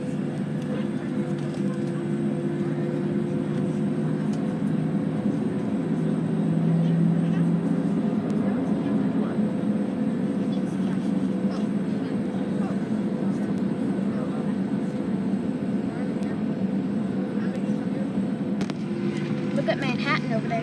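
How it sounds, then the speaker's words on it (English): A Delta Embraer E175 jet taking off, heard from inside another airliner at LaGuardia as a steady, loud low engine roar that fills the whole stretch without a break. "Oh, there goes a plane taking off. A Delta Embraer E175"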